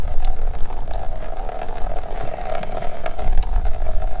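Water running steadily out of the fuel tank pan of an old diesel truck, a continuous trickling, gurgling flow close by with no talking over it.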